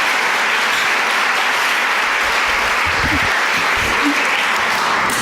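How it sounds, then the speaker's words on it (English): Audience applause at a senior speech honoring a student going to Georgetown University, steady dense clapping filling the whole stretch, loud and close, with a faint murmur of voices beneath it. "So, round of applause for that."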